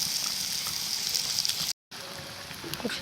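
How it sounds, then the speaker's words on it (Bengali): Fish frying on a leaf in a hot pan, a steady soft hiss and sizzle that cuts out briefly, then returns with faint crackles. "পাতায় মাছটা আমি বসিয়ে দিয়েছি"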